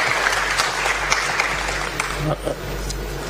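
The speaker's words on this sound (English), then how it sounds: "Let's give a warm round of applause to Juma for that wonderful set of words" Audience applause at a grand-finale event, a steady wash of clapping with faint speech underneath and a steady low hum in the background.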